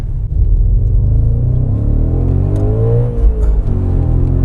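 Audi RS4 engine revving hard under acceleration, a loud, close, continuous rumble whose pitch climbs steadily through the revs, heard alone without talk.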